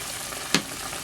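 Pork and chicken sizzle in a pan as turmeric powder goes in for arroz valenciana. A steady close frying hiss is marked by one brief louder crackle.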